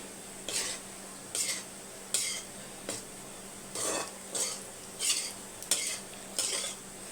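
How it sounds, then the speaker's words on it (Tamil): Capsicum lemon rice being mixed in a pan with a spoon, about eight evenly spaced scraping strokes against the metal over a faint low sizzle, close and fairly quiet with no talking. "இப்போ மிக்ஸ் பண்ணிக்கலாம்."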